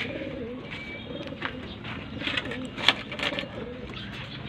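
Pigeons coo in low, repeated murmurs, with a few brighter chirps and rustles mixed in nearby.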